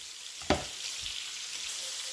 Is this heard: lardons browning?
yes